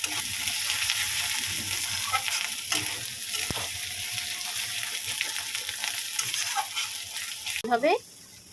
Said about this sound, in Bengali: এটাকে ভালো করে কষতে হবে, এই মশলাটা ভালোভাবে কষিয়ে নিতে হবে।